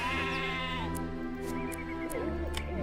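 Sheep bleat several times in the video game Hero of the Kingdom, wavering calls over a sustained musical backdrop with a few brief clicks.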